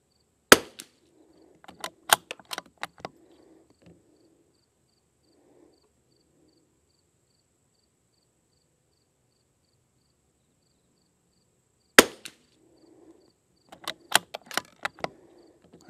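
Rifle shots from a Lithgow LA101 and a CZ 455 with a Walther barrel, firing Lapua Xact ammunition: sharp single cracks, one early and one near the end, each followed by clusters of smaller clicks and clatter, with quiet gaps between.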